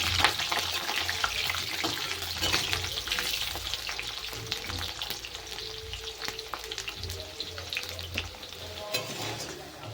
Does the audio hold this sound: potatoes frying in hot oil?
yes